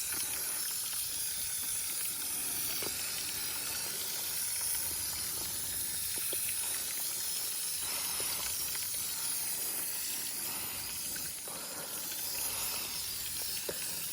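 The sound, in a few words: spray painting a boat, spray hiss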